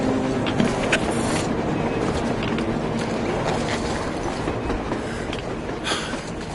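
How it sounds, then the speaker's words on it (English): A train in the video game Metro Exodus rumbles past in a steady, loud roar of rolling wheels and rattling cars, continuous from start to finish with no voices. "A train! A damn train on the surface!"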